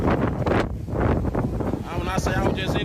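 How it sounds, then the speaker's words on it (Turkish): Storm in Missouri with strong wind and heavy rain: constant loud roaring, buffeting gusts battering the microphone, with a voice briefly audible under the din. "Şiddetli yağış rüzgarla birleşti, binaların çatıları parçalanıp uçtu."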